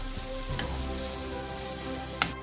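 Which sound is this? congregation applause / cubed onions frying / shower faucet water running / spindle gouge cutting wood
cubed onions frying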